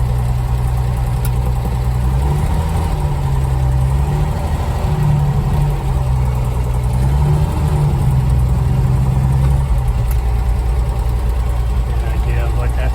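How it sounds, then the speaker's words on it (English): A 1972 Toyota Land Cruiser FJ40's engine idles steadily and loudly nearby, its low droning pitch rising and falling slightly as the revs shift. "one more video with the engine running"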